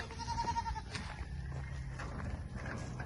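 Crossbred native goats bleat repeatedly on a goat farm, several calls overlapping at close range against steady farmyard background noise.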